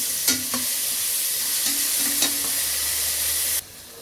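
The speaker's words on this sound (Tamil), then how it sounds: "வெங்காயம் வதங்கிறதுக்கு உப்பு சேர்த்துக்கோங்க." Sliced onions with salt sauté in a pan for mushroom biryani, giving a loud, steady sizzle broken by a few scraping stirs of a spoon, with no talking.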